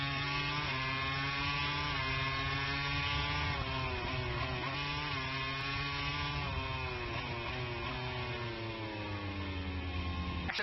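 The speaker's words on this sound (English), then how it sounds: "The Ducati launches out." A Ducati MotoGP motorcycle accelerates hard out of a corner onto the front straight, its engine note loud and continuous, climbing steadily in pitch with no talk over it.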